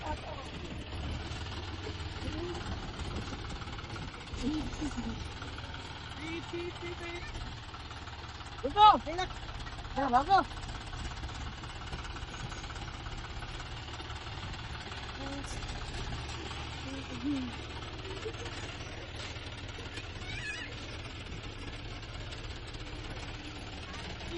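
A tractor engine idles and chugs with a low, steady rumble throughout, while people talk over it and a few brief louder clanks stand out.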